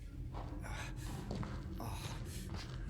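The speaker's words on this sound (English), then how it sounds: "you can hear that just panicked and scared little breathing from James before he jumps into a hole" James panics just before jumping into a hole in the Silent Hill 2 Remake, his short, shaky gasping breaths coming close and steady over a low game ambience, with no speech.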